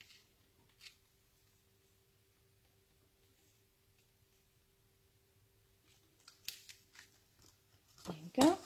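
Scissors trimming the end of a papercraft layer in a card-making session, a few quiet snips and crisp paper cuts near the end after a stretch of near silence, with a voice speaking softly.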